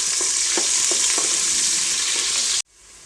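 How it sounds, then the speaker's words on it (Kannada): Chopped onion frying in oil with masala, a steady close sizzle with a few soft stirring scrapes, cutting off abruptly near the end. "ಈರುಳ್ಳಿನ ಒಂದು ಸ್ವಲ್ಪ ಫ್ರೈ ಮಾಡ್ಕೊಳ್ತೀನಿ"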